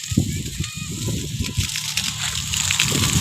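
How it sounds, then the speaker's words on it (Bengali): Water gushing from the mouth of a hose pipe onto flowering plants in a garden, a rushing splashing stream with uneven sloshes, close by, with bird-like honks and a voice audible behind it. "এখানে যে পাইপের মুখ থেকে জল বেরোচ্ছে কত সুন্দর তো বন্ধুরা এখন জল দিব ফুলের গাছেতে"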